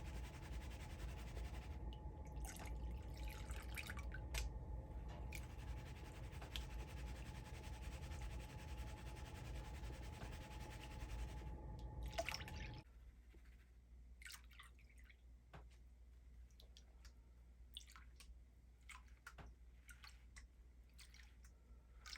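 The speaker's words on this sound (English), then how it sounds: "Actually show the panning, not me running it down a sluice. So that's why I'm panning it out." Paydirt is panned for gold in water, with close sloshing, swirling and dripping that runs continuously, louder in the first half and then quieter with scattered drips and splashes.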